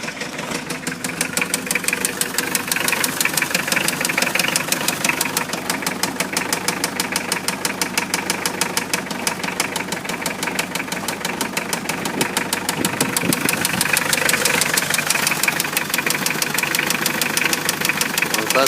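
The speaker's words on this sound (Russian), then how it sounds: "Начинается вот такой стук." A Mitsubishi 4D56T turbo diesel idling with a fault knock, a fast, even metallic tapping running steadily over the loud engine drone for the whole stretch.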